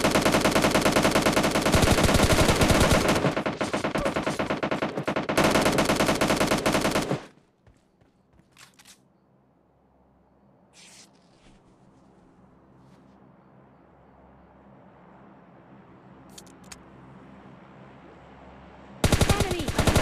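Automatic gunfire in the mobile shooter PUBG Mobile Lite, loud dense bursts of rapid shots, then a quiet lull with faint distant pops before another burst at the end.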